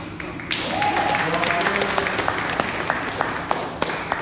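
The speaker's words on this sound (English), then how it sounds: "Y'all can applaud him." An audience applauds at a community presentation, steady clapping from many hands filling the room for several seconds, with a voice briefly audible beneath it.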